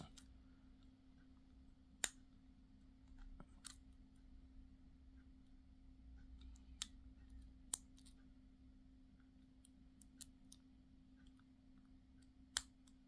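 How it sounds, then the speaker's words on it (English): Sparse, sharp pin clicks sound as a Master Lock Pro-Series padlock is single-pin picked, a few isolated ticks over a quiet background hum. "Lots of clicking going off, and we've got plenty of rotation on the core."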